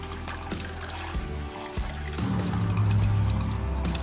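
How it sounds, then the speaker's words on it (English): Cool water runs steadily from a free-flowing, 519-foot-deep state-permitted artesian well by a bay, a close, continuous pouring and trickling that swells louder partway through. "It says this state permitted a free-flowing, 519 feet deep artesian well from a cool, pristine aquifer"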